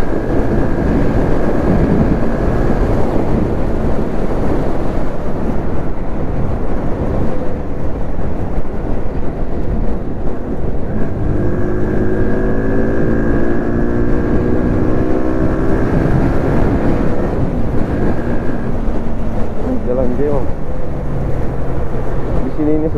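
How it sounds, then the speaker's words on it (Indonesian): Steady strong wind roar buffeting a rider on a SYM VF3i 185 LE motorcycle, constant and loud throughout with engine tones faintly shifting beneath; someone talks over the noise. "Angin kuat bosku."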